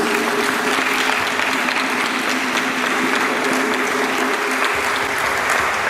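A church congregation applauding in acclamation, dense sustained clapping from many hands filling a large room, steady and fairly loud from start to finish.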